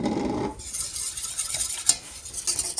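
Maple syrup is worked into a tart filling with a soft, close stirring and swishing, faint and wet, after a brief louder pour at the start.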